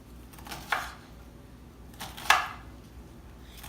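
A kitchen knife chops food for chicken rice, cutting larger pieces smaller: two distinct close knocks against a cutting board about a second and a half apart, with quiet room tone between.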